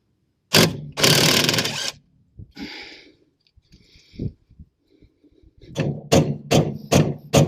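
A hammer strikes a steel suspension part on a Mk2 Ford Escort being fitted with polybushed TCAs, giving sharp, loud metallic blows, a single hit, a longer clattering burst, then a rapid run of five or six strikes.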